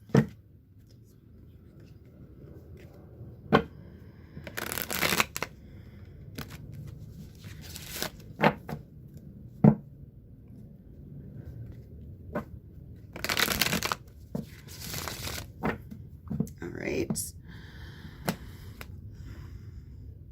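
A tarot card deck is shuffled in several sharp riffling bursts, with quiet pauses and a few soft taps between them, heard close up.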